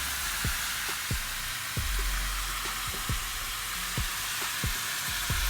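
Onions sizzle steadily in a hot pan for Filipino bistek, a constant hiss broken by repeated soft taps and scrapes of a utensil stirring and spreading them.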